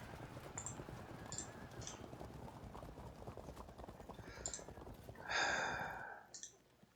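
Light horse cavalry in the Field of Glory II strategy game, with faint, rapid clip-clop hoofbeats drumming steadily and a brief horse whinny near the end.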